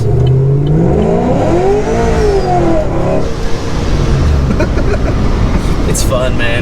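A car with rolled fenders and new tires accelerates and revs hard during a ride-along, its engine note rising and falling loudly from inside the cabin, with occupants talking over it.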